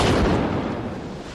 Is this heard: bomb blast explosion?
yes